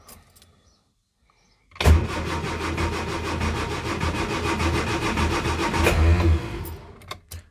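A long-unused car, sitting with no windscreen, cranks and fires into life: after near silence a loud engine catches and runs steadily for several seconds, revving slightly before settling.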